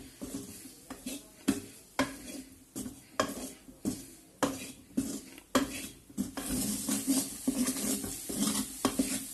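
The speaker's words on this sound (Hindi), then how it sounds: "ये तकरीबन 3 चम्मच थे मैदे के, इसको हम भूनेंगे इसके ऊपर जरा अच्छी तरह से" About three spoonfuls of maida flour roast in a pan while a spoon stirs it steadily, scraping and tapping the metal in a regular rhythm over a soft sizzle, close and with no talk.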